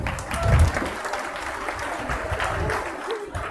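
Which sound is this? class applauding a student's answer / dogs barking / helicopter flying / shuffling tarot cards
class applauding a student's answer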